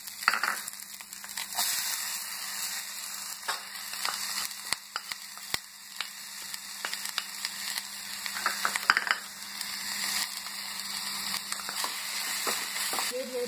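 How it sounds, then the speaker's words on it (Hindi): Cumin, tomato and onion fry steadily in hot oil, giving a continuous crackling sizzle with scattered sharp pops and light scraping clicks, close and alone throughout. "ऐड करेंगे थोड़ा सा जीरा, फिर टोमेटो एंड ऑनियन को डाल देंगे ताकि अच्छे से फ्राई हो जाए।"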